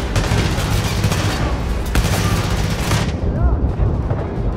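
A grenade explosion in Far Cry 5 hits within heavy, loud gunfire and booming bursts that cut off sharply near the end, with voices talking beneath.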